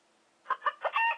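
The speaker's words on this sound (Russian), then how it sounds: "Курица." A short electronic toy chicken clucks three quick times, then gives a brief squawk, close and clear against a quiet background.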